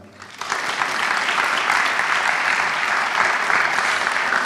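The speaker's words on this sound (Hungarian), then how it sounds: "köszöntsük nagy tapssal a mai versenyzőket" Sustained applause from an audience welcoming contestants at the final of a Hungarian poetry recitation festival, swelling quickly after a brief quiet start and then holding as a dense, even clapping for several seconds.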